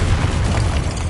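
A dense, roaring blast from the Confringo fire spell in Hogwarts Legacy fills the moment, loud and sustained with heavy low rumble and crackling burst throughout.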